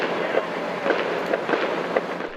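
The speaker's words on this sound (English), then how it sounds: "It was a barrage of gunfire" A barrage of gunfire comes from a house during a police standoff in an Antioch neighborhood: a regular string of sharp shots, roughly two per second, heard at a distance over a steady background rumble.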